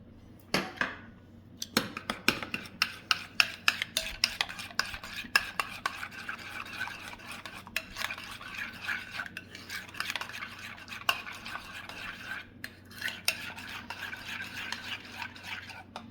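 Garlic mixed thoroughly into a mixture with a utensil in a bowl, a continuous run of quick, close clinks and scraping taps at an uneven rhythm, no talking.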